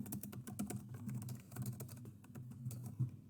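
Rapid, close clicking of keys on a computer keyboard, quick irregular taps in bursts with short pauses, fairly quiet and without talk.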